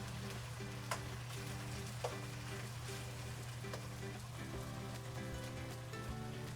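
Chicken fries in a wok for Szechuan chicken, a continuous crackling sizzle with a steady low hum from the stove and a couple of faint utensil taps, close and moderately quiet.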